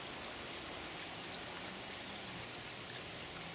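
Outdoor traffic noise forms a steady, unbroken wash of hiss and low rumble, even in level and moderately loud, with no voices or distinct single vehicles standing out.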